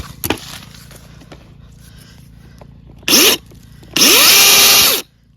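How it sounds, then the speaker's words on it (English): A chainsaw is started to test it: a brief rev, then a louder, longer burst of about a second with rising engine pitch, heard close over quiet background hum. "Let's see if the chainsaw still works."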